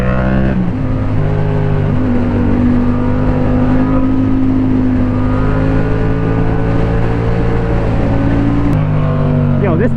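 A motorcycle rides along winding back roads, its loud, close engine droning steadily with rising and falling pitch as the rider shifts and rolls the throttle, mixed with constant wind rush.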